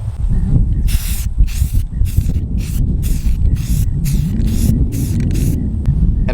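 Paint is sprayed onto steel beams to slow rust, in about eleven short regular hissing bursts over a constant low rumble of background noise.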